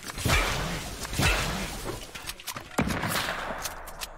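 Sharp gunshot bursts in the Fortnite video game, several spaced cracks with rapid trailing shots, loud and close, with no voices over them.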